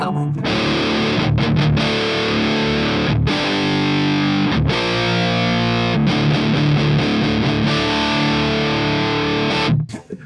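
Electric guitar played through a Sunless Effects Dark Ages distortion pedal at low gain, with the tight control rolling off some low end: a dense, sustained chugging riff with a few brief stops, loud and continuous, no talking.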